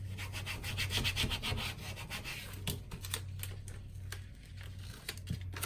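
Vinyl rubbed down onto a 12x12 Halloween scrapbook page gives quiet, close, repeated scratchy rubbing strokes that continue steadily throughout, with no voices.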